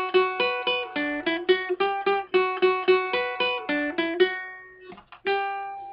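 Ukulele plucking a riff, a quick run of bright repeated single notes in a steady rhythm, close and clear, ending with a few sparser plucked notes.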